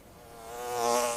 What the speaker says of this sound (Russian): Всюду гудели пчелы